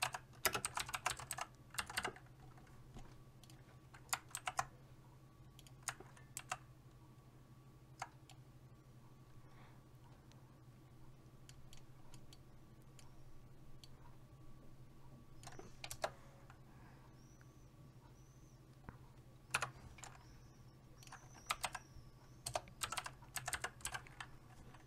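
Keystrokes on a computer keyboard come in scattered bursts and single taps over a steady low hum, fairly close but quiet, with pauses between groups while text is entered.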